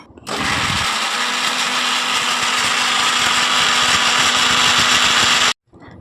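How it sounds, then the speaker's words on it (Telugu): A mixer grinder whirs loud and steady as coconut pieces with warm water are ground, starting abruptly, holding a constant high motor whine for about five seconds, then cutting off sharply. "కట్ చేసుకున్న ముక్కల్ని మిక్సీ జార్లో వేసుకోవాలి. గోరువెచ్చని నీళ్లు పోసుకుంటూ మెత్తగా గ్రైండ్ చేసుకోవాలి."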